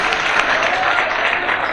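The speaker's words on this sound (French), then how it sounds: "Je pense que des applaudissements s'il vous plaît pour eux." Audience applause for a team at the final of a French-language word competition, a dense steady wash of many hands clapping filling the whole stretch without pause.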